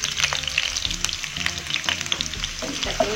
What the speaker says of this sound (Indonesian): Kita tumis sampai mengharum.